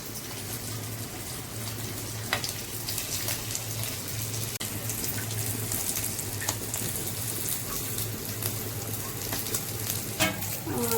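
Malvani khapi fish fries in a pan over a low-to-medium flame, giving a continuous close sizzle and crackle with occasional sharper pops and spits.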